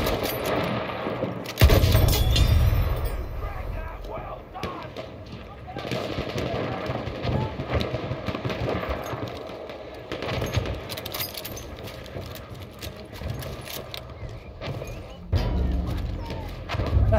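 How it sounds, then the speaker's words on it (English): Battlefield 1 battle gameplay with heavy booms and bursts of gunfire across a noisy battlefield, loud thumps standing out at intervals over a continuous din, with game voice lines spoken throughout. "Enemy artillery."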